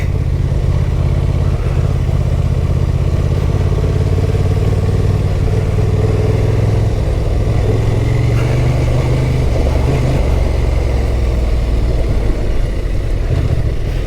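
Honda Transalp motorcycle ridden off road at an adventure bike festival, its engine a steady loud low drone with road and chassis clatter throughout, running in second gear without pauses.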